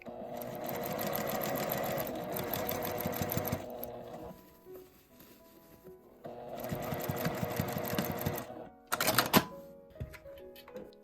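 A sewing machine backstitches scrap fabric for a small drawstring bag, running in three rapid, rattling bursts separated by quiet pauses, close and fairly soft.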